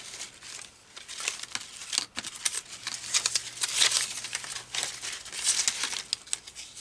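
Paper pieces from a craft box being crumpled and handled close up, a continuous dry crinkling and rustling with sharp crackles throughout, no voices.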